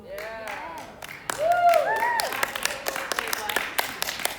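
A middle school ministry group gives applause to a guest who shares with them each week. Voices and cheering come first, then scattered claps build into a quick, uneven round of clapping near the listener.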